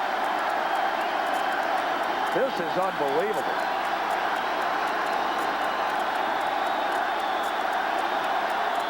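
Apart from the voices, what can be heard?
baseball stadium crowd noise, Yankee Stadium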